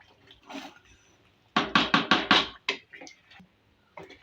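Water splashes into a pot of browned potatoes and beef for a curry, a burst of close, rushing gushes lasting about a second, followed by a few scattered clinks and faint kitchen sounds.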